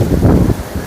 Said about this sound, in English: it's just awesome, very windy